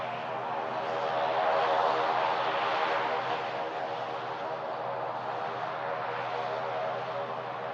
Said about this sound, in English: as those props cut through the air